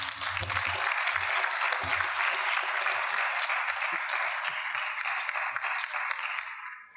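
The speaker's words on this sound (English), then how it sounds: "Another round of applause for Dr. Sherif." An audience at the 2nd International HZM Conference breaks into sustained, dense applause after a speech, many hands clapping steadily for several seconds before tapering off at the end.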